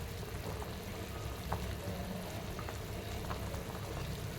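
Chicken curry bubbling in a pot while being stirred, a steady soft simmering fizz with scattered small pops and clicks, moderately quiet and without speech.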